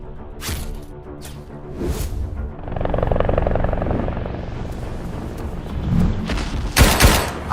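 A helicopter hit by a thrown bottle bomb: loud rotor roar and whooshing with sharp bursts and blasts, chaotic and close throughout.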